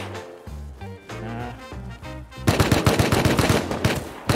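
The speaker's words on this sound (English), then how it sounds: "Fucking moron is shooting at me." Video game gunfire in a multiplayer shooter: a rapid automatic burst of loud, closely spaced shots in the second half, after heavy music-like tones.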